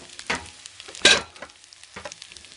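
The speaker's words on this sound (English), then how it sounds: "I'm going to leave that now to simmer" Rice and flavourings simmering in a pan, a soft bubbling sizzle broken by a few sharp scrapes or taps against the pan, close by with no talking.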